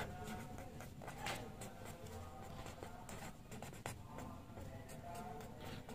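Pen scratching across exam paper as answers are written out, a steady busy rub of strokes running throughout with a low background hum and no talking.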